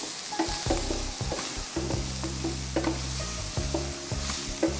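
Tomatoes sauté in a pan for Gujarati dal while a spoon stirs them: constant close sizzling with repeated scraping strokes against the pan, no voices over it.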